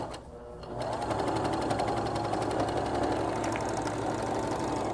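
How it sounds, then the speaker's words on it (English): A serger sewing machine stitching along the bottom hem of a garment, starting up after a brief pause and then running in a fast, steady mechanical whir with a rapid needle chatter, loud and close, with no talking. "I'm going to serge along the bottom, which was the very first place I started stitching."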